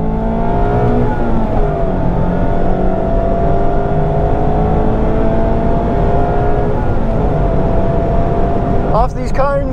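A Mazda MX-5 ND2 laps Croft circuit, its engine droning loud and steady throughout with rising and falling pitch through gear changes, and a rougher burst near the end.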